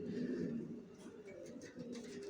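Janssen line racing pigeons coo in a loft, a steady low murmuring drone of several birds with soft rolling calls that continue throughout.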